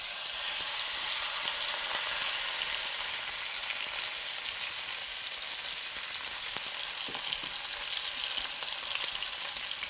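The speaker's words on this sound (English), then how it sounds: "I'm going to stick our roast in there, and we're going to sear it on all sides" A beef roast sears in hot oil in a cast iron pan, giving a loud, steady, close-up sizzle that holds evenly throughout with no voices.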